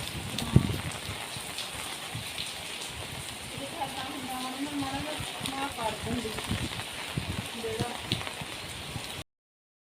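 Steady rain patters on a surface with scattered drops, while people talk under the downpour before it cuts off abruptly.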